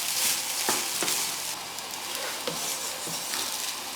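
Thai crispy garlic fried rice with onion and green onions or chives is stirred in a hot pan, a steady sizzle running throughout with a few soft scraping strokes of the spatula, close and alone.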